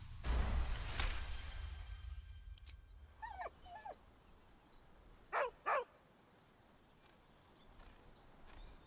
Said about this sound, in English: deep, heartbroken whine, the dog bows his head